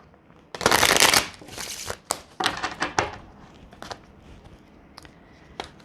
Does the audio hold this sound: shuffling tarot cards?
yes